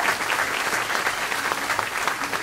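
An audience applauds a school board member at a perfect attendance car giveaway event, a dense, even burst of clapping throughout, fairly loud and close, with no voices over it.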